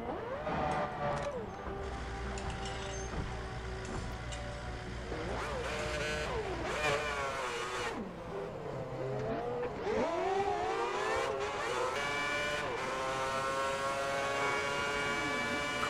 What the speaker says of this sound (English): Let's fire up the engine.